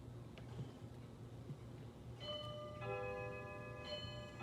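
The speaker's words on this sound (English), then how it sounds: "That's my grandmother's clock. It always chimes every time." A grandmother's clock chimes partway through, ringing clear sustained tones over quiet room noise, with a second chime starting near the end.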